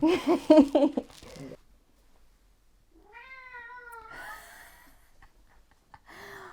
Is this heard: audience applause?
no